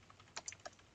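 Typing on a computer keyboard gives three or four quick, light key clicks in a brief, quiet burst.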